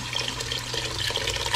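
Pig blood poured from a basin into a boiling cooking pot for pork dinuguan, a steady rushing liquid splash that fills the whole moment, loud and close.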